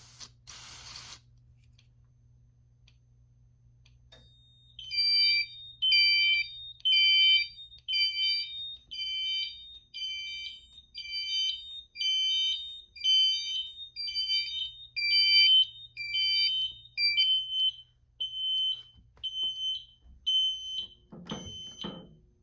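A Notifier SFP-1024 fire alarm panel sounds its supervisory condition tone: a brief burst, a pause, then a long series of rapid, evenly pulsed high electronic beeps, clear and fairly close in a quiet room.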